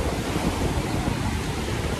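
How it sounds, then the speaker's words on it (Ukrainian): Steady, cold, roaring wind buffets the microphone outdoors in Alicante, a constant low rumble with a hiss, with no break across the short stretch. "Сьогодні такий вітер."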